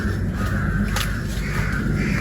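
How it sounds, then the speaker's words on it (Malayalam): Crow cawing outdoors under cloudy, rain-threatening skies beside fields and a stream, a few harsh caws rising over steady broadband background noise with no talk. "പക്ഷിക്ക് സൗണ്ട് മാത്രമേ ഉള്ളൂ."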